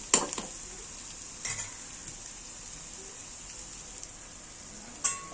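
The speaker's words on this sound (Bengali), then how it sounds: "আমি আর একটু সময় পেঁয়াজটা ভাজবো" Onions sizzling steadily in a pan while being cooked down for a pabda fish tomato-onion bhuna, a soft even hiss broken by a few sharp spatula scrapes against the metal; no talking.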